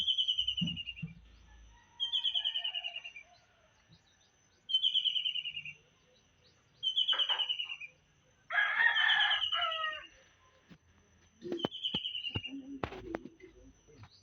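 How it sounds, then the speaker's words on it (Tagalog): A rooster crows loudly about six times in a row in the countryside morning, with short pauses between calls, while other birds chirp and call in the background. "Pag umaga, yan ang maririnig mo dito sa probinsya."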